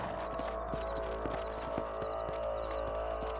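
Hoofbeats from a horse ridden through open country in Red Dead Redemption form a quick, even clip-clop rhythm under a steady bed of ambient game noise, with no talking over it.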